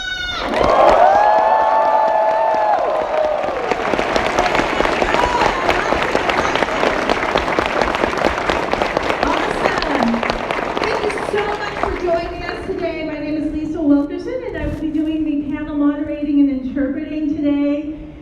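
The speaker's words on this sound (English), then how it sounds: "give us a big round of applause for, first of all, this panel, Anime NYC, come on!" A large crowd applauds and cheers at an Anime NYC spotlight panel for Rie Kugimiya, loud sustained clapping with whoops that fades into scattered claps and murmuring at the end.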